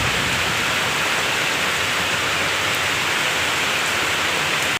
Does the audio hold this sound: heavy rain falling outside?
yes